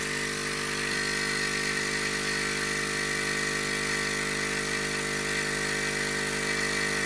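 A Hailea ACO 318 45 W air pump used for laser air assist runs with a loud, constant droning hum and buzz that stays unchanged throughout, with no voices.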